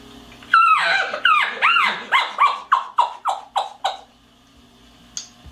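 Elk chuckle imitated by a person with a mouth call: about ten rapid, descending chok-like grunts in a steady rhythm, loud and close, ending with a small faint note and no talking.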